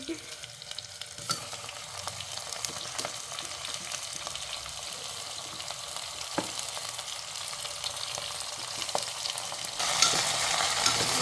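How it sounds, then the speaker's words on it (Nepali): Goat meat fries in a pan, a continuous close sizzle with scattered sharp scrapes and clicks of stirring, growing louder and brighter near the end. "यसलाई चाहिँ भुट्छु मैले चाहिँ"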